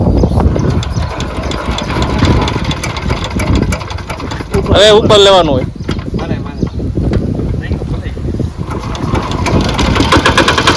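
A small diesel mini tractor engine rumbles steadily throughout, with a brief sputtering surge as it catches, while people talk over it in a cotton field.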